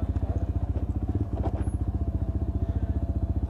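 A Lexmoto ZSX-F 125cc motorcycle engine idles nearby with a steady, even low throb that keeps a regular pulsing rhythm throughout.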